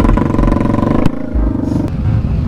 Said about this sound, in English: There is another electric bike here.